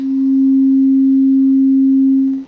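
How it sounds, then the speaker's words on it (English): A simple sine wave tone from a VR audio mixer, one pure steady pitch held loud and unbroken for about two and a half seconds before cutting off abruptly. "So this is a simple sine wave, it looks like."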